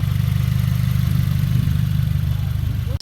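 A 2017 Subaru WRX idling with a new aftermarket exhaust, giving a loud, close, steady low burble with a rapid pulsing rhythm that runs throughout and cuts off abruptly at the end.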